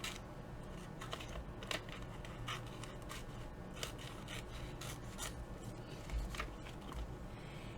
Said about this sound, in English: take my scissors, cut this out roughly